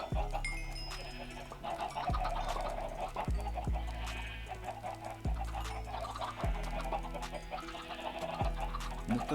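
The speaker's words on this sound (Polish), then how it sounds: "Masakrycznie mam dużo kurczaków." Chickens clucking in the video game Minecraft, a flock of many birds with repeated clucks over steady game music and a rhythmic low thumping beat.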